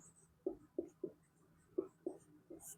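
A pen scratches out an equation on paper during a class 10 maths lesson: six short, soft, close strokes in an uneven rhythm over a quiet room hum.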